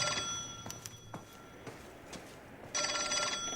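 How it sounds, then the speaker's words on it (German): An old-fashioned telephone rings in the video game L.A. Noire, sounding in short bright bell bursts separated by gaps, with a louder, sustained ring at the end. "Neues Ziel, ans Telefon gehen."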